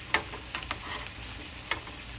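Jambalaya grits cakes fry quietly in a pan as they are flipped. A faint steady sizzle runs underneath, broken by a few sharp clicks from the spatula.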